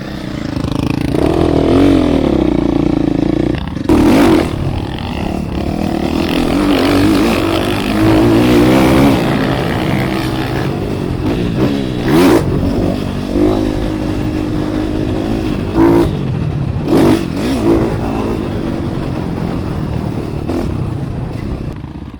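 Dirt bike engine on a motocross track with jumps, droning steadily near and loud with repeated throttle revs and sharp bursts, occasional clatter and rushing wind throughout.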